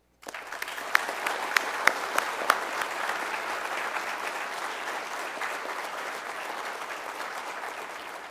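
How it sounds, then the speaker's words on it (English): Crowd applauding cadets at a spring ROTC commissioning ceremony, sustained even clapping from a large audience after a brief silence, with a few sharp near claps early on. "please join me in a round of applause for Cadets Wright, Grimes, Maxwell, Mooney,"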